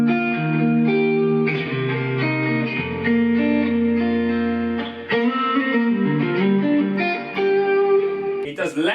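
Distorted electric guitar through a master volume amp plays sustained chords and melodic lines with a thick, overdriven tone, loud and steady throughout, ending with a brief scrape.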